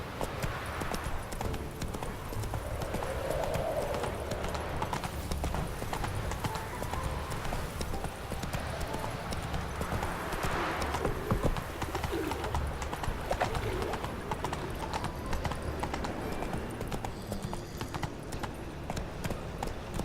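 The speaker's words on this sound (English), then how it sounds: "Run, Roach." Hooves clip-clop in a brisk, continuous rhythm as a horse gallops in The Witcher 3: Wild Hunt, with birds and pigeons cooing in the background.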